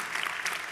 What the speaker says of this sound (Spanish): si va a aplaudir, hágalo con más ganas, iglesia